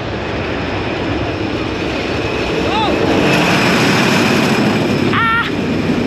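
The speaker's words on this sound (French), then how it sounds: "Ça c'est le bruit du tunnel. Et le coaster arrive." Tonnerre de Zeus roller coaster train at Parc Astérix rolling in through a tunnel: a loud, steady broadband roar and rumble that swells slightly midway, with two brief rising whistle-like chirps on top.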